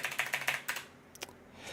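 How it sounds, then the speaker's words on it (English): Fast, crisp clicks from a loud blue-switch mechanical keyboard, a quick burst of keystrokes followed by a few scattered taps, fairly faint and close. "I have a very loud, clicky, blue cap mechanical keyboard"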